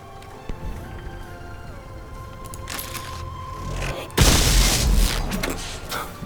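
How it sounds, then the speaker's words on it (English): Cannon shots slam into an enemy mech's shield system in the video game Ironcast: a sudden loud boom and crashing burst follow a stretch of quieter game tones and machinery hum. "Let's shoot his shield system."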